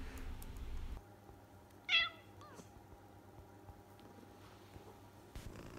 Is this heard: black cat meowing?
yes